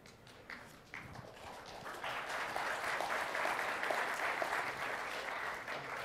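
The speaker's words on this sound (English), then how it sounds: "That was a quiet applause." Quiet audience applause in a conference hall during a technical keynote on .NET, a dense patter of clapping that swells after a second and holds steady to the end without any talk.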